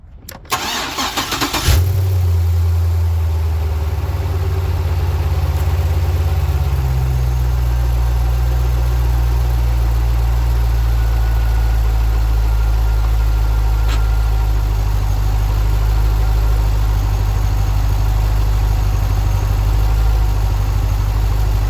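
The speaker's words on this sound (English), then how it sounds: "I'm going to go ahead and go in there and crank you up, so you're going to hear some noise and some vibration" A 2006 Chevrolet Corvette with an intermittent fuel pump fault cranks briefly and fires up, then settles into a steady, loud, low idle that runs on without interruption, heard up close with no talking.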